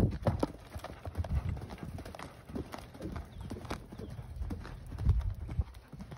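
A horse cantering on a riding surface, its hooves clip-clopping in a steady, fairly close rhythm, with quiet background noise and no talk over it.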